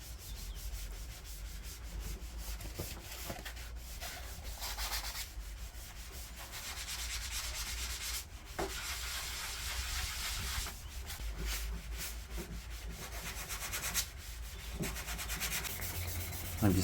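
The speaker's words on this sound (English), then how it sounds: "I'm just sanding down this high spot here where the paint dripped onto it out the can." Steady, continuous sanding of a paint drip on the base coat of a Vauxhall Corsa SXi: abrasive paper rubbed back and forth in long strokes with brief pauses, close by and without talking.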